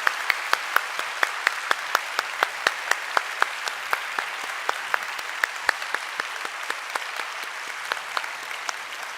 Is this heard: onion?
no